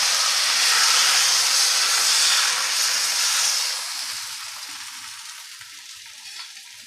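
Rice adai batter with drumstick leaves sizzles loudly on a hot pan, a strong hissing fry at first that gradually softens and settles into a quieter, steady sizzle.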